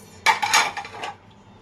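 Onion, garlic and dried chili being ground for a Bangladeshi bharta, heard as a short burst of clinking, scraping strokes against a hard surface, fairly close and moderately loud, lasting about a second before fading to quiet.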